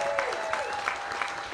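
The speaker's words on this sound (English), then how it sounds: "How about a round of applause for Josh Jones?" A hotel event audience claps for a Green Bay Packers player in a brief burst of steady applause, with faint talk mixed in.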